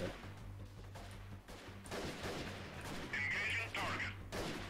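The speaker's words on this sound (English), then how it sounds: "I'm hearing shooting" Gunfire in Mount and Blade with the Arma mod during a guerrilla warfare battle: scattered distant shots and crashes ring over constant game ambience and engine-like drone, with a voice talking throughout.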